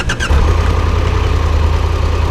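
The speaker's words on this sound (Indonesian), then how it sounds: "Nah, inilah bunyi mesinnya. Dia khas banget, 3 silinder." A 2022 Triumph Tiger 1200 Rally Pro three-cylinder motorcycle engine fires up and runs at a steady, throbbing idle, loud and close after a brief rattle at the start.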